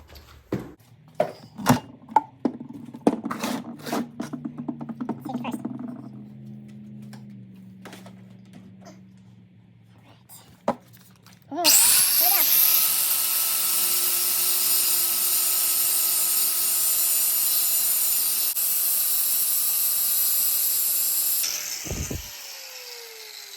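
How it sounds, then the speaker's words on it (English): An angle grinder grinds off a rivet on an old, crusty chain. Clanks and tool handling come first, then the grinder whines up and cuts loudly and steadily for about ten seconds before it spins down. "we're just gonna use a grinder and grind that off"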